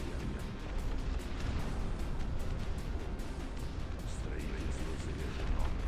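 Artillery cannons firing in the real-time strategy game Dust Front RTS, a steady rumble of repeated distant blasts and cracks under continuous battle noise, with a voice talking over it.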